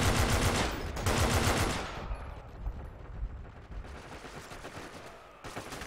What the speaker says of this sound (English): Where was that pistol shot coming from?